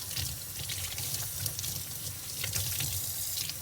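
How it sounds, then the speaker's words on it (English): Plastic vacuum cleaner parts rinsed under a running tap, a steady, fairly quiet rush of water splashing into a sink without pause, with no voices. "these parts are all just plastic, so I should be able to give them a good rinse"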